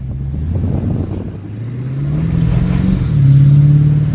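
A Duramax diesel truck, freshly fitted with a new fuel filter and water sensor, pulls away and accelerates. Its low engine drone climbs steadily in pitch and grows louder, heard up close without any talking.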